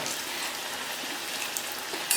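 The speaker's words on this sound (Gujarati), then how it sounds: "તેલમાં જ્યાં પણ જગ્યા હોય ત્યાં આપણે પૂરીને તળી લઈશું" Jowar flour and mint puris deep-fry in hot oil, producing a brief, steady bubbling hiss at moderate volume with a small crackle at the end.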